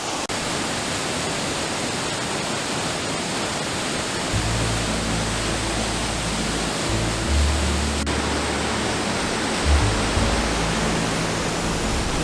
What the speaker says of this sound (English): we have finally made it to Indian River Falls